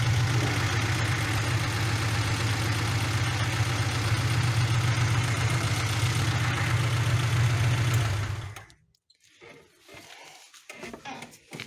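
A homemade tractor fitted with a VAZ-2106 engine idles loudly and steadily close by with a constant low throbbing hum for about eight seconds, then cuts off, leaving faint scattered knocks and clatter.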